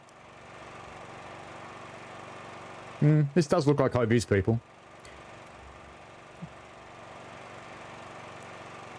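A chainsaw runs somewhere far off in the Train Sim World 2 Tharandter Rampe route between Dresden and Chemnitz, a faint steady buzzing drone that continues throughout, with a short burst of talk over it midway.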